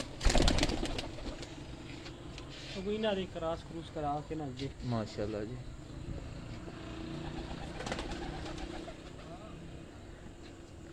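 Pigeons cooing on a rooftop, a run of rhythmic throaty coos in the middle, fairly faint beneath a voice talking over it with background noise.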